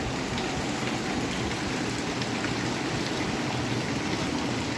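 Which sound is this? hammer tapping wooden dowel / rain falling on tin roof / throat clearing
rain falling on tin roof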